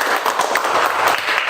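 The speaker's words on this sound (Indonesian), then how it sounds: "Kita tepuk tangan untuk kita." An audience at an interfaith dialogue session claps together, a dense and fairly loud burst of applause that holds steady for its short length without any voices.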